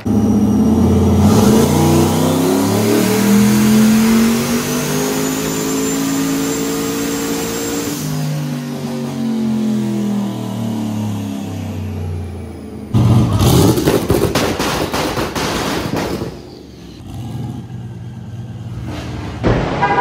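A loud turbocharged Camaro engine on a dyno revs and drones with shifting pitch, then bursts into harsh rapid two-step popping and crackling, sharp and close, with no voices.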